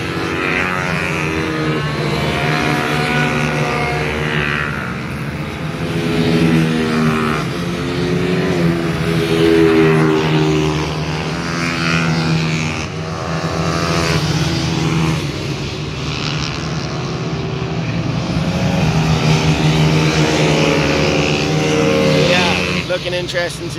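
A racing motorcycle laps the Teesside track during a Freetech endurance race. The engine drones steadily and rises and falls in pitch as it passes, loud and continuous throughout.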